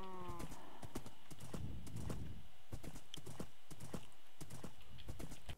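A horse in Minecraft clip-clops along in rapid, steady hoofbeats, opening with a short whinny, moderately close and faint throughout.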